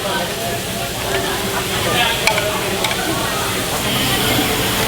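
Thin brisket sizzles on a Korean barbecue grill at an all-you-can-eat restaurant, giving a steady, loud, close hiss with a few sharper pops, amid busy restaurant noise and faint background voices.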